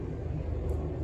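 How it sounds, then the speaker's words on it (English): A helicopter flies over the Hudson River, producing a steady, distant low rumble that holds evenly throughout. "Oh, that's a helicopter, and it's not falling out of the sky"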